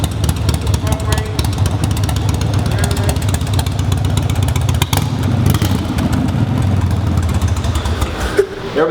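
Engine of a low-mile 1984 Harley-Davidson motorcycle running steadily nearby, a continuous low rumble throughout with a brief dip near the middle, and talk mixed in over it.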